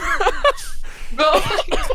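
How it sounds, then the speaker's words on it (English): A laughing cough: a few breathy coughs broken up by chuckling bursts, close and short. "But that was a laughing cough."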